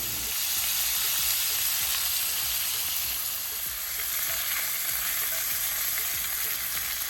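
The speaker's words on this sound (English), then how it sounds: "Allow that butter to melt, and then we start going in with our pieces of lobster tail." Pieces of lobster tail frying in melted butter in a cast iron skillet give a loud, dense, continuous sizzle with a crackling hiss that holds steady throughout, up close and with no voices.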